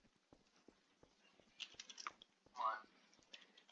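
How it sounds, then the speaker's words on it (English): Quiet clicking of a computer keyboard while typing a team chat message during a GMod Prop Hunt match, with faint irregular taps and a soft voice nearby. "I'm typing it."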